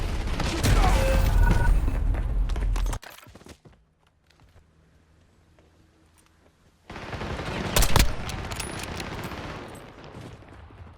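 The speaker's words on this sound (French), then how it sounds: "J'ai reçu des tirs." Gunfire in Call of Duty Warzone: loud, dense bursts of rapid shots for a few seconds, a near-silent gap, then another volley with one especially strong crack before fading to scattered lighter shots.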